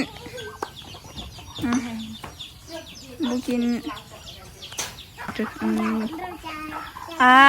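Hens cluck and squawk repeatedly at close range, overlapping one another, with a sharper call at the very end.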